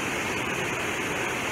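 Waterfalls on the Four Falls Trail near Ystradfellte roar as a steady, dense wash of rushing water, loud and unbroken with no voices.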